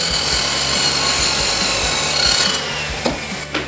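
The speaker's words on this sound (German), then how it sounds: "Mit der Kappzug- und Gärungssäge schneiden wir als nächstes die Kanthölzer auf die gewünschte Länge." A Parkside sliding mitre saw cuts through wooden square timbers, making a steady, close rasping grind that runs unbroken for several seconds before tapering off with a few small knocks.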